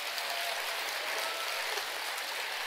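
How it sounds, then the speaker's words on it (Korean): Faint, even applause fills a Buddhist temple Sunday service as the congregation claps for the temple president, a distant, hissing wash of many hands with no break. "회장님 박수 한번 줍시다."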